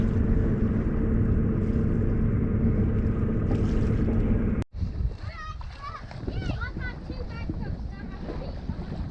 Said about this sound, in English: So it's very pleasant sailing along here with our surprisingly fast yacht.